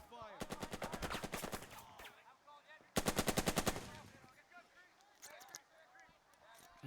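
Machine gun fire in the video game Burden of Command, two sharp bursts of rapid, evenly spaced shots near and loud, each lasting about a second and a half, with talk faintly present in between.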